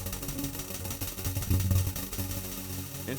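Absynth 5 synthesizer patch where noise is turned into pitch by super comb filters and shaped by an Aetherizer, giving a dense, rumbling textured drone with faint pitched tones emerging, steady and moderately quiet.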